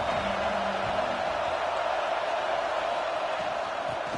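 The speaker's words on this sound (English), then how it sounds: "This crowd ready to make its presence known" Stadium crowd at a Penn State versus LSU college football game in a video game, a steady, distant roar of many voices that holds evenly throughout.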